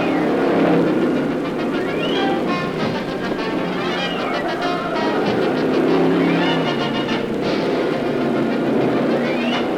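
Stock cars roar along a beach course in a 160-mile race, a loud, continuous rushing engine din with repeated rising and falling whines as cars pass close by.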